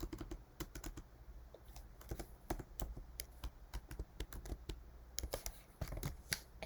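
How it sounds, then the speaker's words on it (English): Steady computer keyboard typing while filling in a printable design in Canva, many crisp irregular keystrokes in quick runs, close and fairly quiet, with no talk. "Okay, so you can type it in there"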